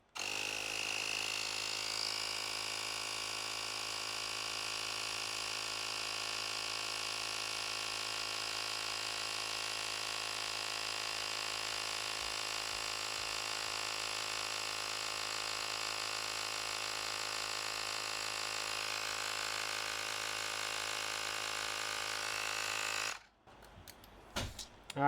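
A Fanttik X9 Pro tire inflator pumps up a car tire, a steady, unbroken motorized buzz with a high whine running for over twenty seconds before cutting off abruptly, followed by a few faint clicks.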